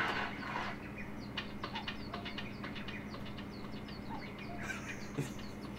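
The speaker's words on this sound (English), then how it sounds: "I love that bird sound effect, the boop, boop." Bird sound effect in a PlayStation game demo disc, a repeated short boop-like call with scattered chirps over a steady ambient hiss, faint and distant with no talk.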